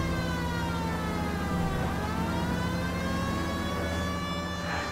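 A police car siren in the video game L.A. Noire wails continuously with rising and falling tones over steady engine and traffic noise, loud and close, with no talking.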